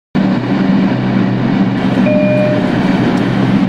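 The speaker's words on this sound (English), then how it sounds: "This is a Bronx-bound one train." A Bronx-bound New York subway 1 train in the OpenBVE train simulator game cuts in abruptly with a loud, steady rolling rumble and a brief high tone midway, with no talking.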